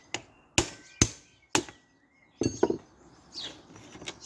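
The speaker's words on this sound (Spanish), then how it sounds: "El martillo." Hammer blows on a minibike part during a tire and tube change: four sharp, ringing metallic strikes in an even rhythm, then a quick cluster of lighter knocks and clatter, close and loud.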